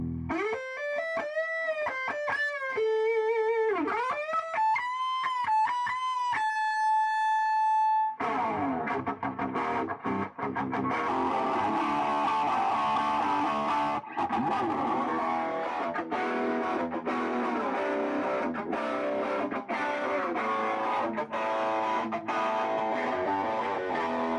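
Electric guitar played through a Fender Deluxe Reverb amp set on 6 with a Van Wilden Royal Overdrive pedal, starting with clean bent sustained notes, then after a brief pause loud, driven, crunchy chords and riffs ringing continuously.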